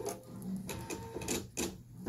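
An embroidery sewing machine starts quilting fabric in the hoop, producing a close, rhythmic mechanical whirring and stitching pulse with several repeated surges.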